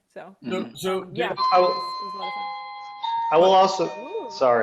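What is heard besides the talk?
doorbell ringing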